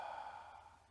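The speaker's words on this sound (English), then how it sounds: "Open the mouth, breathe out." A single soft exhalation through an open mouth during a yoga session, a brief breathy sigh that fades over about a second, quiet and close.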